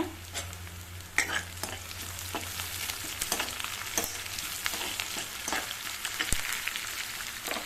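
Chopped onion and green chilies fry in hot oil with a steady crackling sizzle and scattered sharp pops and spatula scrapes, fairly quiet and close.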